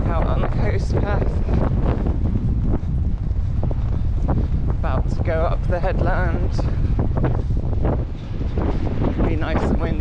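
Strong coastal wind buffets the microphone on a coast path approaching a headland, a constant roaring rush that persists throughout while a runner speaks over it.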